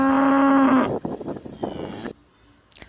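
A cow moos in a long, drawn-out low call for under a second, as in a children's alphabet lesson, followed by a brief spoken word and then near silence.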